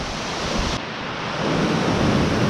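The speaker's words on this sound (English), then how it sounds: "I don't know how many litres of water are cascading over that per hour" Steady roar of a large waterfall pouring into the start of a new river near Pilsworth, North Manchester, a dense unbroken rush of water that swells slightly louder toward the end.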